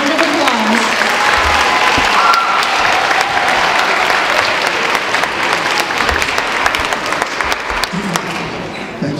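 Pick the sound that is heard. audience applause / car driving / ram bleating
audience applause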